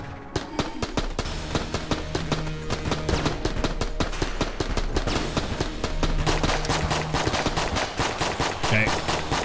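Rapid automatic gunfire from the video game Enter the Gungeon rattles continuously in dense, fast bursts at close range and loud level, with a few heavier shots mixed in.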